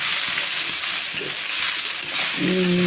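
Rice being stir-fried in a pan for bhat bhaja, a steady loud sizzle with scraping stirs throughout and a brief tonal whine near the end.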